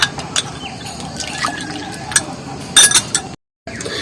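Water is poured into a pan for washing, a short splashing trickle with a few light metallic clinks, close and fairly loud.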